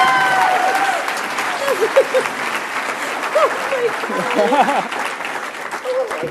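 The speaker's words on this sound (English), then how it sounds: "Let's give a round of applause for my Aunt" Guests at an annual awards dinner applaud in a banquet hall, a broad wash of clapping that tapers while voices and chatter carry over it.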